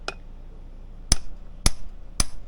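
Three sharp metallic hammer strikes, spaced about half a second apart, ringing briefly after each blow, close by with quiet background otherwise.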